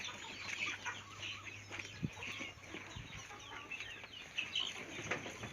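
Chickens about one to two months old cluck and chirp faintly in a busy flock, with scattered calls and scratching over a steady outdoor hum.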